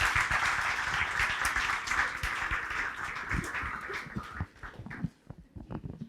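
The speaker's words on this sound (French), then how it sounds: "On l'applaudit" Applause from an audience in a talk or lecture setting, a dense steady patter of many hands clapping that thins out and fades toward the end, with a few scattered claps at the close.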